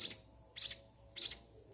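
A one-week-old sparrow chick chirps three times at a steady pace, roughly every 0.6 seconds. The thin, high calls are close but fairly soft, with no talking.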